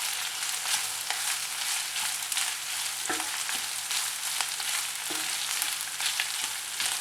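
Spices frying in hot oil in a pan while being stirred, a constant close sizzle broken by occasional soft scrapes and knocks of the utensil, with no talking.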